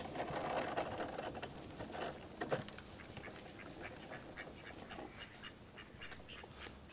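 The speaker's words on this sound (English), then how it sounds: "And some more ducks." Ducks quacking near a housing estate, a series of quick, raspy quacks in uneven bursts, moderately close and fairly faint, with no talking over them.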